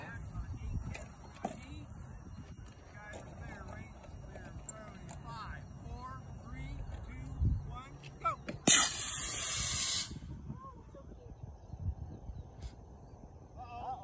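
Mini Red Max model rocket on an A10-3T motor launching outdoors, a sudden loud rushing hiss bursting in and holding for about a second and a half before cutting off, with people talking before and faintly after.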